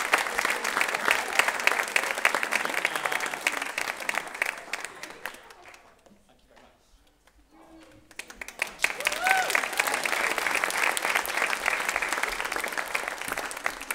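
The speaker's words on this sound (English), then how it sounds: "can we just have a massive, massive, huge round of applause for Charlotte and Chris?" A live audience applauds loudly at a community choir concert, sustained dense clapping that fades to near silence midway before swelling back up to a full round of applause.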